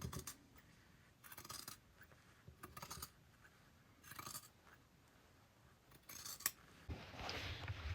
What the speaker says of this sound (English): we are going to go in and cut on that line that we just drew on with the white marking pen